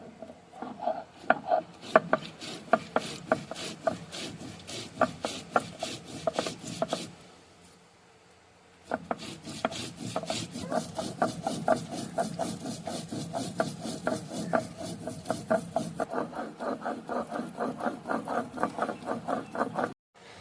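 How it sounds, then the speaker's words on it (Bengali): Cumin and coriander are ground together on a traditional grinding stone, a rapid rhythmic scraping and knocking of stone on stone that runs in steady strokes, pauses briefly midway, then resumes. "এবার আমরা জিরে আর ধনেটাকে একসাথে বেটে নেব।"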